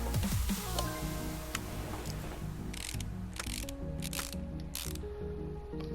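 Mechanical ratcheting clicks and tool whirs as a brake caliper is refitted onto a car in Car Mechanic Simulator, quick ratchet bursts repeating in short runs over a steady, tonal background hum.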